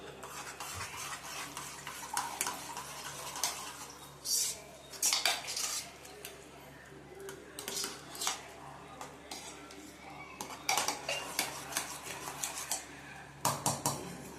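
A pressure cooker of potato and moraiya khichdi is opened, then stirred with a metal spoon, giving close clinks and scraping against the pot in irregular bursts, with no voices.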